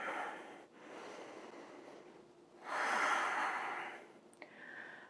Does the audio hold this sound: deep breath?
yes